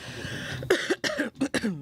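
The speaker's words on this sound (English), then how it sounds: "I still got a little tickly cough." Several short, dry coughs in quick succession, close and fairly soft, with a breath before them.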